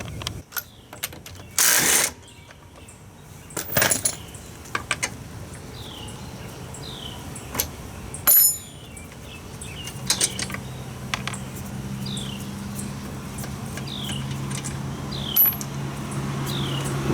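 Taking the tire off a 1992-2000 Honda Civic during a rear camber kit installation: intermittent metallic clanks, ratcheting and clicks of tools and wheel parts, close and irregular, with quieter gaps and a low hum, no talk.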